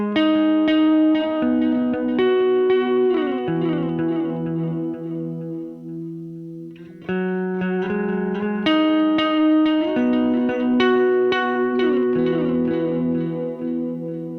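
Guitar notes and chords played through a Chase Bliss Habit echo pedal set for a tape-delay feel, with repeats smearing and trailing behind each phrase, a short pause midway, then more busy picking thick with echoes.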